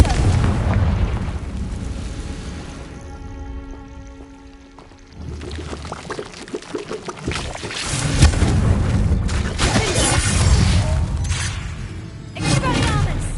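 A fiery spell blast in a fantasy video game erupts in heavy booms and crackling bursts, with a deep rumble that swells and decays amid other game noise and a voice calling out.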